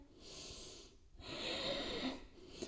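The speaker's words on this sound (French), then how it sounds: "On inspire." Breaths drawn in during a gentle yoga flow for the back: a few close, airy inhalations through the nose, the longest swelling in the middle, alone with no talking.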